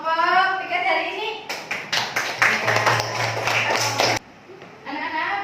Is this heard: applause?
yes